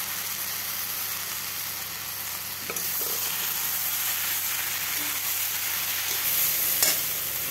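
Boiled peas, potato and spices being stir-fried for ghugni, a steady close sizzle with intermittent scraping and stirring throughout, no voices.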